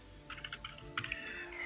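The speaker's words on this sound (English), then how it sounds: "then press on Alt, then enter, then type whatever else you want to type." Keys on a computer keyboard are tapped in a short run of quick, light presses while working in Excel, close and clear in a quiet room with a faint hum underneath.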